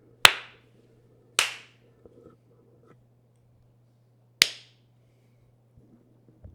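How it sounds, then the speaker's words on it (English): Three separate sharp hand claps, each followed by a short room echo and spaced irregularly over several seconds, loud and close against near silence with a faint electrical hum. "You wanna clap? Yeah, let's clap."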